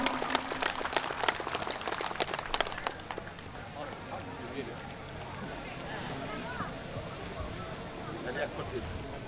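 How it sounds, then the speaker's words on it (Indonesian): An audience claps at a community celebration of a regional association in Dairi Regency, a brief burst of dense applause at the start that fades into crowd murmur and room noise. "Boleh kita tepuk tangan semua, Amang Inang."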